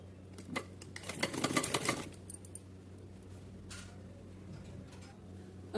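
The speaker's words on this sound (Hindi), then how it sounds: "तो उससे पहले मैं इस पर ऊपर की साइड सिलाई लगाऊंगी।" A domestic sewing machine stitches a frill onto a small doll's dress: a quick, rattling run of stitching for about a second and a half, then faint, quiet ticking in a calm room.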